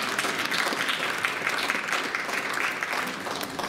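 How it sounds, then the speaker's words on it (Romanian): Audience applause at a minorities' day celebration in Bacău, a continuous dense patter of many hands, moderately loud and steady from start to finish. "Aplauze pentru dumneavoastră."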